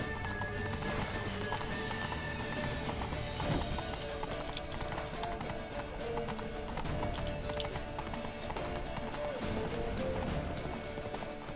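A horse gallops in The Witcher 3, rapid rhythmic hoofbeats continuing throughout amid game ambience and music, with a brief whinny and a voice speaking at times.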